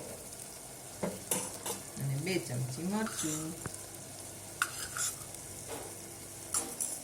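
Spices with salt, turmeric and chili sauté in a pan, a steady sizzle broken by stirring scrapes and utensil clinks while someone talks over it.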